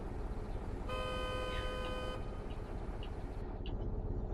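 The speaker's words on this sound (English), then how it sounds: "I don't know why he's honking away." A car horn sounds steadily for over a second from a vehicle stopped behind at a red light, set against constant road and engine rumble, with a few faint shorter beeps after it.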